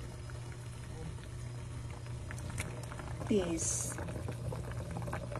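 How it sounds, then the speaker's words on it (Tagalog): Water with onion, tomato and ginger boils in a pot as a steady, soft bubbling hiss at low level, with a brief spoken word partway through. "kumukulo na ang ating tubig na may kasamang sibuyas, kamatis at luya"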